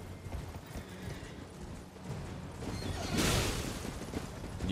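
Clip-clopping hooves of an enemy's horse in the video game Elden Ring, steady galloping thuds under game ambience, with a louder crash partway through.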